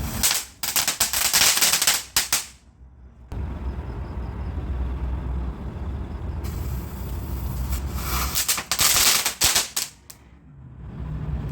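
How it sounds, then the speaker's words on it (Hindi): Firecrackers set off for Diwali celebrations on Dhanteras evening in Indonesia, with two long loud bursts of rapid crackling pops separated by a quieter rumbling stretch. "तो देखो पटाखे फोड़े जा रहे हैं"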